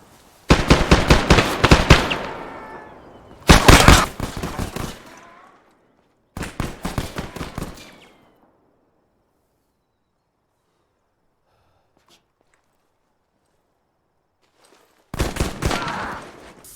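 Bursts of rapid gunfire in an ARMA 3 close-quarters training mission, loud and sharp, coming in three clustered volleys over the first eight seconds, then a long silence before another burst erupts near the end.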